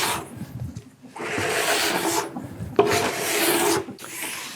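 Scraping wax off a surfboard along its length with a scraper, several rough rasping strokes in a steady rhythm, close and fairly loud with short pauses between passes.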